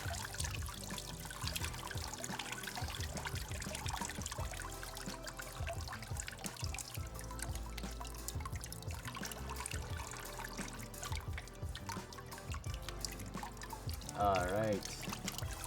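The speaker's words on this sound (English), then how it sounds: "when this has drained sufficiently, you're going to take the Velcro off" Water steadily drains and trickles from a paper-making mould and screen, a continuous close pouring wash with a short spoken word partway through.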